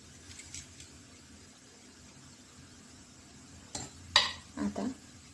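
Ingredients dropped one by one into a bowl of corn salad: a few faint clinks and soft thuds of spoon against dish, the sharpest knock near the end, in a quiet kitchen.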